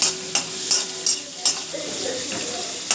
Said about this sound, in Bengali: তাতে একটু ছোলাটা ভেজে নেব, এর মধ্যেই দুটো আর রসুন একটু ভেজে নেব।